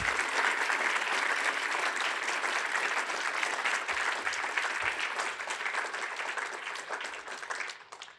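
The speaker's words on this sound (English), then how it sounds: "can we give our panelists a big round of applause?" A conference audience applauds panelists, dense sustained clapping from a large crowd lasting several seconds before tapering slightly at the end, with no speech over it.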